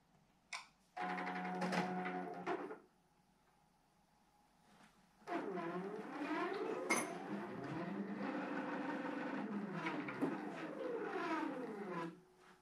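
A Q'nique 21X Elite quilting machine on a Quilter's Evolution frame stitches in two runs, a short burst then a longer stretch, with a rapid mechanical whir and rhythmic needle clatter, close and clear, separated by a quiet pause.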